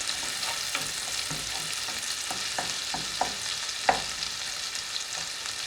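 Whole cherry tomatoes fry in a pan with a constant close sizzle, while a utensil stirs them with scattered scrapes and taps against the pan.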